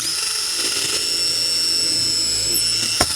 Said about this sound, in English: we'll go ahead and we'll pre-drill this hole